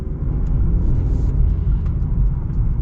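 A 2023 Cadillac CT5-V sedan driving in track mode, heard from inside the cabin as a steady low engine and road rumble with no distinct revving and no one talking.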